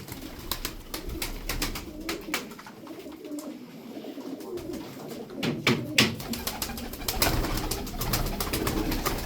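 Sarıkır pigeons coo softly and repeatedly on a Sunday morning, low rolling calls mixed with occasional sharp clicks and rustles close by, with no talking.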